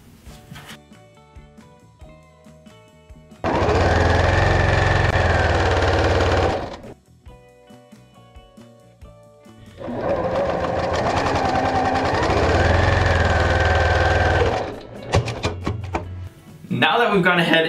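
A sewing machine stitching quilt half-square triangles runs in two long, steady, loud whirring stretches of several seconds each, separated by quieter moments of handling fabric.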